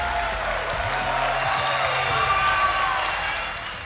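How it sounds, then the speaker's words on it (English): A studio audience claps and shouts in a steady, sustained roar of applause and cheering that swells slightly, then tapers near the end. "Why don't somebody clap your hands and shout if you're ready to take this thing to..."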